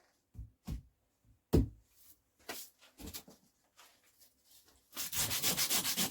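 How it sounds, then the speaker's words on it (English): Coarse 80-grit sandpaper is rubbed over a metal Bonser clutch part. A few scattered scrapes and knocks come first, then a run of quick, even back-and-forth sanding strokes close by. "Let's just rub over this with a little bit of sandpaper. This sandpaper is 80 grit, so that's nice and coarse."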